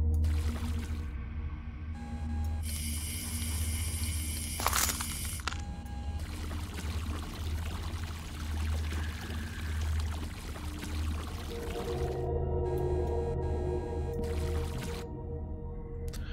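Water pours steadily in the video game Revenge of the Colon, a soft trickling stream beneath steady game hum and a few bright electronic tones.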